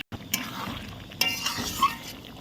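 Masala sautéing in plenty of hot oil with a splash of water, a short burst of close sizzling and spattering with a few stirring scrapes, no voices.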